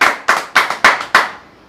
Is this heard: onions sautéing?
no